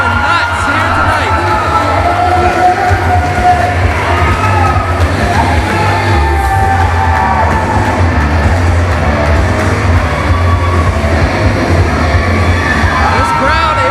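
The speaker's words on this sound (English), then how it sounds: "And this crowd is going nuts here tonight." Arena crowd at a professional wrestling steel cage match roars and cheers steadily throughout, a dense continuous din with scattered shouts and whoops, while commentators talk over it.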